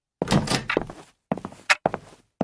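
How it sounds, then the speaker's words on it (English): A door is opened with a few dull thunks and knocks in a short, irregular series of close, moderately loud impacts separated by brief pauses. "The door is opened."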